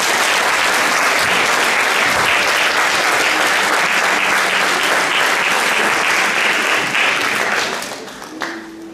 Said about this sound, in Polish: Pamiątkowa fotografia. Brawa.